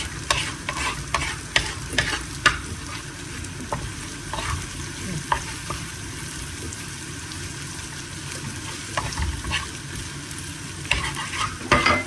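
Steady sizzling and crackling of egg and shrimp frying in a pan, with occasional stirring clatter throughout and no talking.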